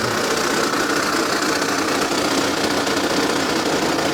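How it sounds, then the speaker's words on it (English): A Mercedes Sprinter camper van engine idling steadily, a loud, even mechanical rumble with no breaks and no voices. "engine runs nice and smoothly"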